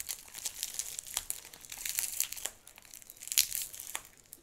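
A package wrapped in many layers of scotch tape is torn open close to the mic in bursts of sharp crinkling, ripping and tearing, with short pauses between the pulls.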